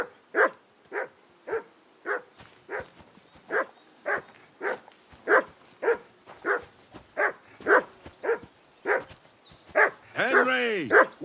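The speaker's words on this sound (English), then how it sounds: "whistle at that mutt of yours to stop barking" A dog in the video game Kingdom Come: Deliverance II barks steadily, about twenty evenly spaced barks, loud and close, ending in a longer yelping howl.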